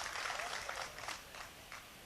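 Audience at a mushaira poetry recital in Ranchi clapping together in a dense, continuous burst of applause that fades slightly toward the end, with no voices over it.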